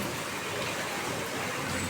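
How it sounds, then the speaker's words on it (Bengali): Morning rain falls steadily outside a house, a soft, even hiss of drops with no pauses, moderately faint and continuous throughout. "সকাল সকালে আবার বৃষ্টি শুরু হয়ে গেল"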